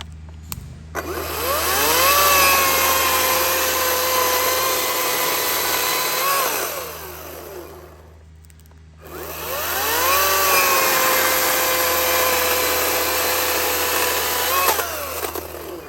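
A Ryobi 40V battery chainsaw with a freshly sharpened chain cuts twice through a log, each pass a loud, close, high whining rip that bogs slightly, separated by a brief drop to idle whir.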